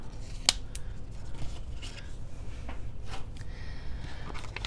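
Scissors snip through card stock with glue-coated blades, giving a couple of short, crisp cuts close by amid quiet handling noise.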